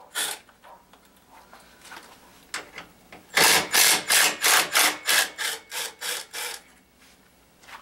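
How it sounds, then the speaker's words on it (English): Ratchet wrench turning a Torx 30 bit to remove bolts during A/C condenser and bumper rebar replacement on a 2000 Voyager, with about a dozen rapid, loud, evenly spaced clicking strokes after softer scattered clicks. "Now I'm going to use a Torx 30 to remove these."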